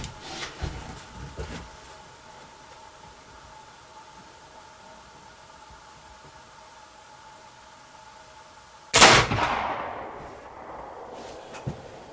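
A Kibler Woodsrunner muzzleloading rifle fired with a 70 grain powder charge gives a single loud, sharp outdoor blast after a quiet wait, followed by a decaying rumble and faint handling noises.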